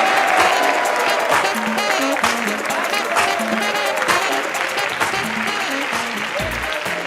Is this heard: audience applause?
yes